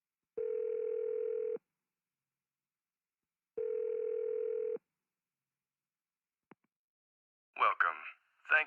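A telephone dial tone in the video game Unmemory sounds in two steady beeps about a second long, separated by silence, followed by a short click and then a voice beginning to speak.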